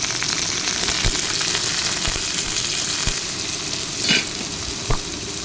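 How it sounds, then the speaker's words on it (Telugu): Cumin, dried red chilies, onions, green chilies and curry leaves frying in hot oil, with a steady close sizzle throughout, a few sharp pops and one brief louder hiss near the end. "కొంచెం జీలకర్ర, ఎండుమిరపకాయలు, ఉల్లిపాయలు, పచ్చిమిరపకాయలు, కరివేపాకు ఇవన్నీ వేసేసుకొని వేయించుకోవాలి."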